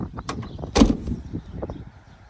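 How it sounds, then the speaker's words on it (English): The driver's door of a 1990 Rover Mini Cooper, which does not shut properly, closes with a single dull thud partway through, followed by faint rattles. "So it's not shutting the driver's door properly."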